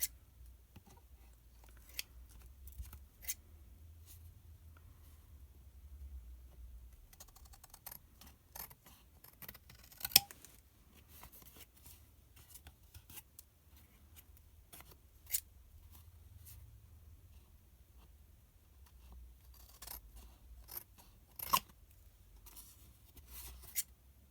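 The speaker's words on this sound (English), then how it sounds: "I will probably just trim those down a little bit to make them a little bit more even with my scissors" Scissors snip paper in scattered, quiet cuts, with short irregular clicks and pauses over a faint low background hum.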